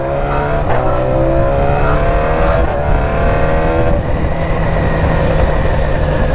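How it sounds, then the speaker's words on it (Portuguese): A BMW S1000 sport motorcycle engine revs loudly and continuously, its pitch climbing and shifting as it accelerates, with a steady roar throughout and no voices. "Essa moto deve tá fazendo um barulho."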